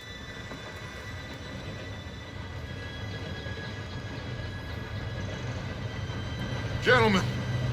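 Train approaching in Red Dead Redemption 2, a low, distant rumble that slowly builds, with a brief rising whistle-like squeal near the end.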